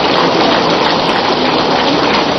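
Heavy rain roars loud and steady at an outdoor Independence Day speech gathering, a dense uninterrupted wash of water with no voices breaking through.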